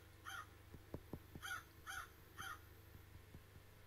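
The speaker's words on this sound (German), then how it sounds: "Da! Habt ihr es gehört? So eine Krähe oder Rabe hat gerade." A crow or raven caws in four short hoarse bursts, evenly spaced, fairly distant over a quiet outdoor background with a few faint knocks.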